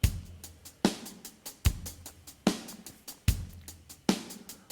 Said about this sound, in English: Let's change it so the hi-hats are now doing semiquavers.